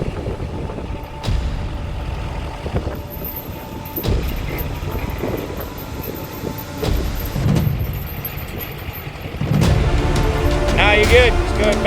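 A truck engine idles and rumbles while backing up, its low drone swelling in a few short bursts, with people talking over it and the engine growing louder near the end.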